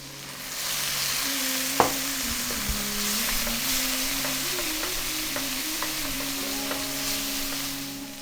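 Chopped onions sizzle and fry steadily in a pan after a splash of water, a continuous close crackling hiss with a few sharp taps of a utensil against the pan.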